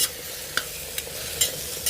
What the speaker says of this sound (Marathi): आणि छान ढवळून घेऊया